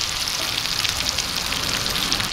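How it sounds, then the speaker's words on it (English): Sausages for paella sizzle and spit steadily in a hot pan, a dense, close crackling hiss that holds at an even, fairly loud level with no talking. "So you just want to brown the sausages a little bit"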